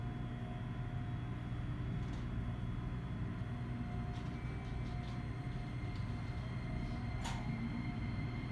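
A JR Kyushu Seaside Liner rapid train between Nagasaki and Urakami rumbles steadily at low pitch throughout, with faint squeaks and a brief high metallic screech near the end.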